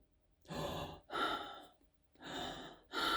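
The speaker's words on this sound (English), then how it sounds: "We're just breathing." Heavy, slow breathing on a recorded prank phone call, four long breaths in a steady rhythm with short pauses between, close to the handset, no talking.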